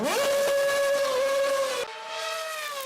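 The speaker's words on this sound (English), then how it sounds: "I do have to say this V8 also sounds pretty good. Just give yourself a second to listen." A Formula 1 race car's V8 engine screams in a sustained high-pitched whine that rises, holds, then drops suddenly partway through, loud and heard alone.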